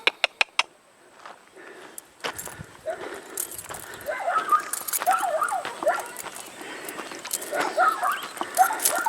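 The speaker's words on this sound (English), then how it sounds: "A lot of barking over there." Dogs bark outdoors in a lockdown setting, a few sharp barks near the start followed by scattered yips and whimpering-like calls under ambient noise.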